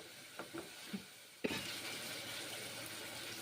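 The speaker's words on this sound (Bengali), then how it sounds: "এখন জল দিলাম" Water splashes into a pan of frying spices for a fish-roe and poppy-seed dish: a few faint taps first, then a sudden loud hissing sizzle that holds steady and close to the end, with no voices.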